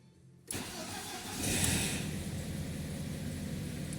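An Audi A6 C5 2.0 engine cranks and catches after a brief silence on its first start after a weak battery, then settles into a steady, loud idle that continues to the end.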